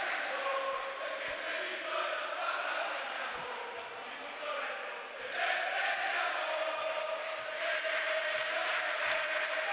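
Treviso basketball supporters in an arena roar and chant continuously, a dense crowd noise with swelling shouts, the occasional ball bounce and voices heard throughout.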